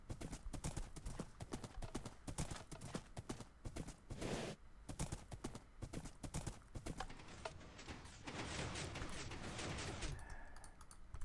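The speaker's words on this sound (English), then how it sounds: "Let's get on the horse." Horse hooves clip-clop steadily in a video game, a rapid, even rhythm of close, crisp hoof strikes running throughout, with a brief whoosh partway and a denser rushing noise near the end.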